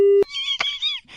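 On a radio prank call, a short, loud electronic beep like a call-ending tone cuts off abruptly, followed by a brief burst of voice.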